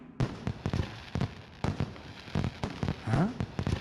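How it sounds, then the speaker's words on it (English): Fireworks going off inside a factory in the video game Danganronpa 2: a series of sharp, loud pops and crackling bursts at irregular intervals, some followed by a rising whistle, with brief pauses between blasts. "Looks like they're fireworks."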